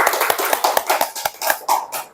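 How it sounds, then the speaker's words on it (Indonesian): A small classroom group claps for a few seconds, giving sharp, uneven hand claps at close range from what sounds like only a handful of people, with no talking over it. "Tepuk tangan dulu."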